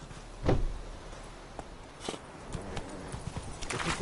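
Geralt's horse Roach in The Witcher, a few soft hoof clops and thuds at a walking pace, one louder knock near the start, fairly quiet overall.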